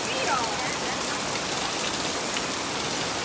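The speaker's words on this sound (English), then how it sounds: "Nah, it's raining." Rain falls steadily, a dense even hiss of drops striking surfaces close by, with faint voices in the background.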